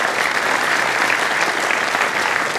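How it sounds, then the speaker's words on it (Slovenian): Audience applause at the Pod domačim zvonikom 2022 folk concert in Koprivnica: a dense, steady wash of many hands clapping at even loudness throughout, with no talk over it. "Zaploskajte še enkrat gostitelju današnjega večera."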